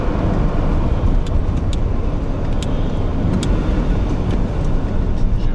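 Lamborghini Diablo engine heard from inside the car while creeping along slowly in second gear, a loud, steady low rumble with road noise and a few faint ticks above it.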